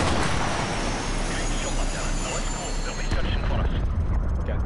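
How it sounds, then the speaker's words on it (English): Helicopter in the video game Call of Duty: Modern Warfare Remastered, a steady loud rotor roar mixed with dense battle noise throughout, ending a little quieter. "Take out that helicopter."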